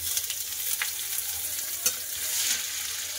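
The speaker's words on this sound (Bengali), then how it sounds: "পেঁয়াজটা ভালো করে লাল করে ভেজে নেবো" Onions fry in hot oil with dried red chillies and bay leaf in a Bengali kitchen, a soft continuous sizzle broken by occasional stirring scrapes and clicks, fairly quiet and close, with no talking.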